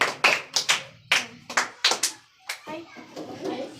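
Schoolchildren in a classroom clap in quick uneven bursts during an oral history quiz, sharp close hand claps mixed with children's voices and chatter.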